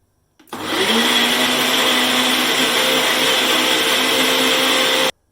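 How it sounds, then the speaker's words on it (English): A blender runs on high, whipping protein pancake batter in one loud, steady whir that kicks in abruptly and holds for about five seconds before cutting off. "blend them up on about a high for about 30 seconds"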